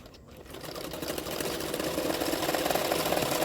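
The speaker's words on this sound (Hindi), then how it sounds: "किनारे किनारे पे मैं सिलाई कर रही हूँ" A sewing machine runs continuously along the edge of a double katori blouse, size 32, a steady rapid mechanical whirr that builds slightly in loudness.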